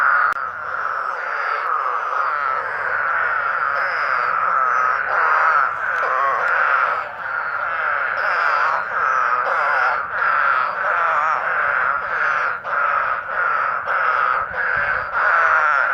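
Spadefoot toads gathered to breed after heavy rain in Kentucky call in a thick, continuous chorus, many rapid pulsing trills overlapping nearby, steady and loud throughout, with no voices over it.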